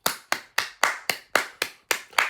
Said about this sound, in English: Clap it up for them gentlemen.